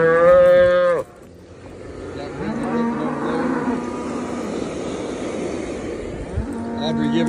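Cattle in a pasture during branding, a loud close moo at the start and another rising near the end, over a background of milling livestock and outdoor noise.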